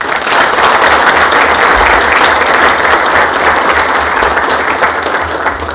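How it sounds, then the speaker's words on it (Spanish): Sustained, dense applause from a large crowd at an anniversary ceremony honoring the Santiago fire department, steady and loud throughout with no pauses. "yo les pido un aplauso al Cuerpo de Bomberos de Santiago"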